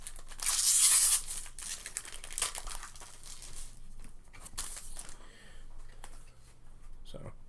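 A small collector booster sample pack of Magic: The Gathering Doctor Who cards is torn open, giving a close, loud foil rip followed by softer crinkling and shuffling of wrapper and cards, with a faint steady hum underneath.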